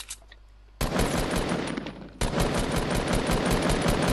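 Video game gunfire rattles out in two loud, rapid automatic bursts, a short pause separating them, with no talk over the shots.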